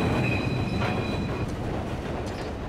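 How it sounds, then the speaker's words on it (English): Freight rail cars roll through a Norfolk Southern hump classification yard, a steady loud rumble of wheels on track with faint metallic squeals drifting above it. "Cars from arriving trains are pushed up the hump, then decoupled, rolled down the incline at 2 miles an hour"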